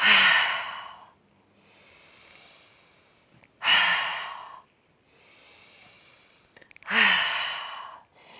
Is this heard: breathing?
yes